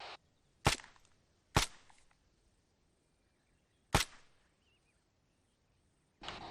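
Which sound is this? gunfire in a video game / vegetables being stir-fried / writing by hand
gunfire in a video game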